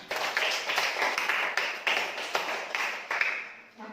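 A classroom group claps hands in a quick, fairly even rhythm of soft, muffled claps lasting a few seconds before fading out, with no talking over it.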